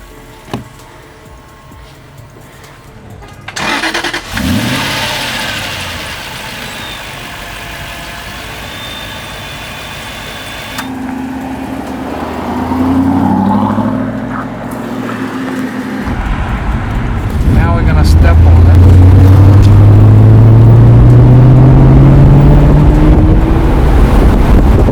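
A 2008 Aston Martin Vantage convertible engine cranks and catches, then settles into a loud, steady idle that swells into stronger, rising revs near the end, with no voices over it.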